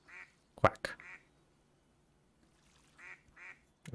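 Duck quacks from a fishing video game come in short bursts, a tight cluster near the start and a pair of calls later, clear against near silence.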